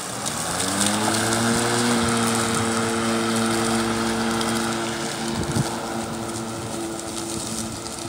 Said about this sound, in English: So we bought our first battery electric mower, and we've been mowing electric ever since.